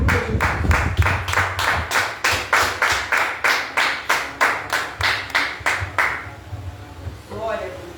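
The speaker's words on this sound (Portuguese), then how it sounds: "Dê um forte aplauso ao Senhor." A church congregation claps in steady rhythmic unison for about six seconds, the beats evenly spaced and fairly loud, then the clapping stops and a voice begins to speak.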